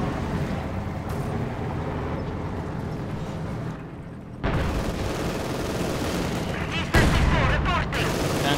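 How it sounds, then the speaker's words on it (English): Machine gun and artillery fire rumbles on in a Company of Heroes 2 battle between Soviet and German forces, a dense, continuous wash of gunfire with a sharp surge partway through, loud and unbroken. "Taking machine gun fire."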